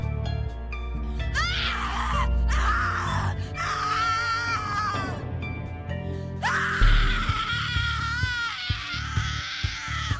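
A woman screams in the horror video game The Cat Lady, letting out several long, wavering, anguished wails. They are loud and close, with a low background drone beneath them.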